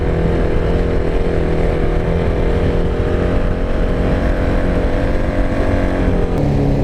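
KTM Duke 690 motorcycle engine running, a loud, close, steady throbbing rumble that holds constant throughout with no speech.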